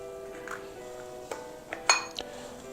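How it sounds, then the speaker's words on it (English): Eggs go into a mixing bowl with a few sharp clinks and taps against the dish, scattered over a quiet room. The brightest knock comes near the end. "We're going to add 3 eggs."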